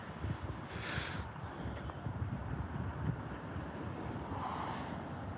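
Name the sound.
wind outdoors in a cemetery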